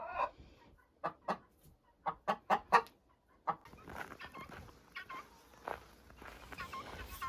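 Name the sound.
chickens clucking on farm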